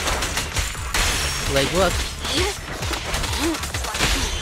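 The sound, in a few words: gunfire from the video game Zenless Zone Zero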